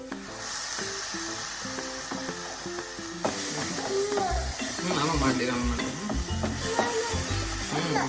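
Tomato puree sizzles in a hot pan while a paneer curry is being cooked, giving a steady frying hiss that swells a little partway through. Someone talks over the sound throughout.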